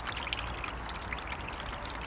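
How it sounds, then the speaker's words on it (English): Water trickles and splashes steadily through a Yzert electric 3-tier bird bath fountain with a pump and lights, a soft continuous babble heard close up with no talking. "now you get your water effect. You can actually hear water"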